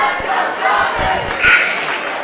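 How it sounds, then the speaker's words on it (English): Student section cheering at a high school girls' basketball game in a gym, a loud rowdy wash of crowd voices with shouts rising and falling over court sounds. "They're cheering on their girls."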